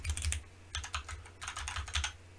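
Fingers type on an ROG Azoth mechanical keyboard in three quick bursts of clicky keystrokes close to the mic, with a faint low hum in the background and no talking.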